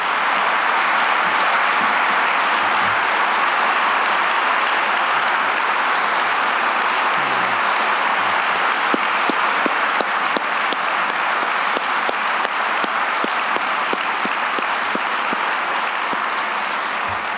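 An audience applauds Pyne Prize winners Claire Wayner and Christian Potter with sustained, dense clapping that holds at a steady level throughout, no voices heard over it.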